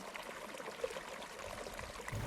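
Sullivan's Creek on Ngunawal Country runs with a steady, soft wash of flowing water, a continuous close trickle and burble with a slightly fuller gurgle near the end.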